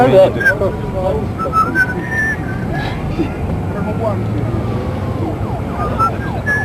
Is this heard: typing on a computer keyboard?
no